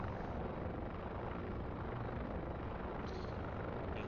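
Video game helicopter engine with throttle building up, a dense continuous rotor and turbine rumble holding steady and fairly loud throughout.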